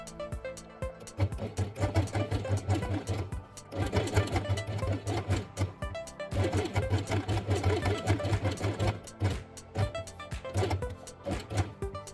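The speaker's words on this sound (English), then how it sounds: "sew it along the edge with red thread" A sewing machine runs in steady bursts, stitching along the edge of a felt Christmas train piece with red thread; the mechanical hum and rapid needle clatter pause briefly between runs, close and alone.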